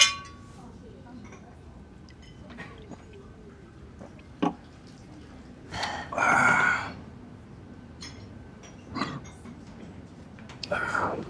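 Glasses clink together in a toast during an evening of drinking, a few bright chimes scattered among soft voices and quiet table sounds.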